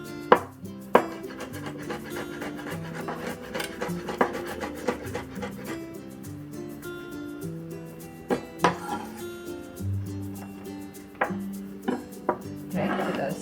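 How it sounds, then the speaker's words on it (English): A knife slices garlic on a cutting board, giving quiet, irregular chopping taps with a few sharper knocks scattered over the stretch in an otherwise calm kitchen. "we'll slice the garlic"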